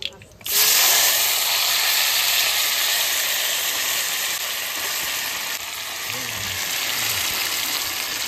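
Food drops into a hot wok and bursts into a loud, steady sizzle of frying that holds for several seconds after a brief quiet start, with a faint low clatter near the end.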